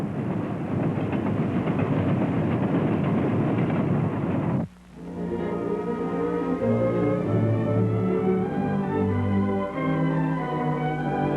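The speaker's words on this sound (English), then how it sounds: "you don't stop a train like this on a dime" A train rolls along the rails, first a dense steady rumble, then after a brief dip a humming, tonal rolling with a steady clatter.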